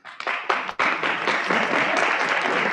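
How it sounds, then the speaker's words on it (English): A live show audience starts clapping for a robot in scattered bursts that quickly swell into sustained, loud applause. "Don't clap for the robot."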